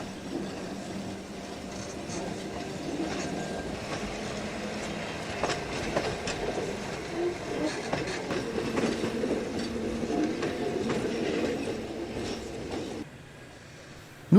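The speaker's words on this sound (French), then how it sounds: "numéro 5, motrice fourgon de l'ancienne compagnie fusionnée SGA, construite en 1931 par le consortium SLM, SIG, BBC" A historic 1931 SGA motor baggage car, built by SLM, SIG and BBC, runs along the rails with a steady rolling rumble, clicking wheels and rattling body, louder toward the middle before dropping away abruptly at the end.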